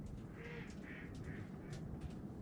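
A group of pet ducks quacking outdoors in several short, fairly faint bursts, spaced roughly evenly over a couple of seconds against quiet background noise.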